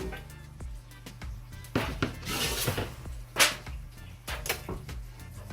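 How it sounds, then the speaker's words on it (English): Curry shrimp scraped and spooned from a cooking pot into a baking pan, with several clattering metal-on-metal knocks and scraping bursts at close range and short pauses between them, no talking. "I'm going to transfer this now to a baking pan."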